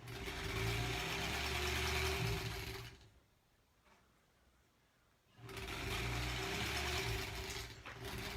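A Featherweight sewing machine stitching granny-square quilt pieces runs with a close, steady mechanical whir, stops for about two and a half seconds of near quiet, then starts up again at the same pace.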